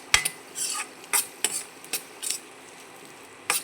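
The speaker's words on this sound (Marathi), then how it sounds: "वाटाणे पण चांगले तेलामध्ये परतून घ्यायचे आपल्याला" Peas tossed in hot oil with onion and chilli for a bamboo shoot bhaji, a spoon scraping and stirring the pan in a series of brisk, separate strokes over a faint background sizzle.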